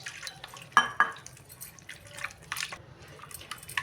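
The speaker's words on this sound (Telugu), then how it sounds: "ఇంకొంచెం వాటర్ పోసుకున్నాం" Water poured into cauliflower batter for Gobi 65 makes close, small splashes and drips, with a couple of sharper splats early and lighter trickling sounds afterward, all fairly quiet.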